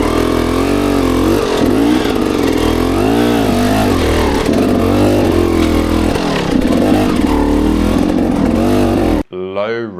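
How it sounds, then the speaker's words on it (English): Dirt bike engine chugging at low revs while climbing a steep rocky hill after a ledge, a steady close throbbing drone with rising and falling pitch, ending abruptly in a brief quiet moment. "listen to the sound of my bike"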